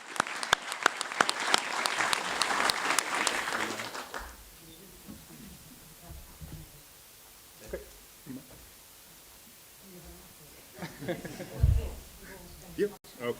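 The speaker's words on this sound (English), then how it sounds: "So big applause for Jordi." Audience at a university graduation ceremony breaks into loud, close clapping for about four seconds, which then fades to scattered claps, shuffling and quiet murmured talk.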